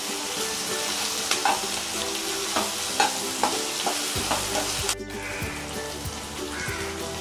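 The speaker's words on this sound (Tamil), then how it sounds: "வெங்காயத்தோட பச்சை மிளகாய் கருவேப்பிலை எல்லாத்தையும் சேர்த்து நல்லா வதக்கணும்" Onion, green chilli and curry leaves sauté in a pan with a steady frying crackle, then a spoon stirs them with repeated scraping strokes, close and fairly loud, with no voice.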